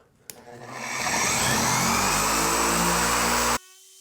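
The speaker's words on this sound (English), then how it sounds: "I've got my polisher on 4." A car paint polisher on speed 4 starts with a click, spins up over about a second into a loud, steady whirring drone, then cuts off abruptly, with no voices.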